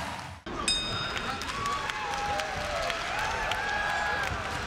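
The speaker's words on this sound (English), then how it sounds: "This crowd is loud." A loud crowd roars and cheers at a Kun Khmer fight, a dense steady wall of noise with whistles and shouts, after a brief moment of near silence at the start.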